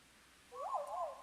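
A single soft owl hoot, with a short wavering call, rises briefly over a quiet ambient bed in the video game Ori and the Will of the Wisps.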